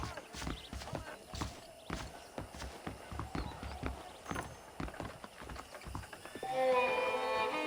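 Horse hooves in the video game Red Dead Redemption, a steady run of clip-clop hoofbeats close by, with a faint whinny-like tone rising near the end.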